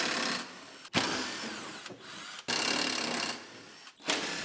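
A power ratchet or drill unbolts bolts on a Ram Promaster City van, giving three close, loud bursts of whirring and buzzing separated by short stops.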